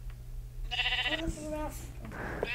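A sheep bleats in the video game Minecraft Beta 1.9 prerelease, a couple of short nasal calls heard close over a steady low background hum.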